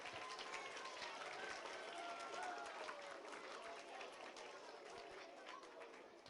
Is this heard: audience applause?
yes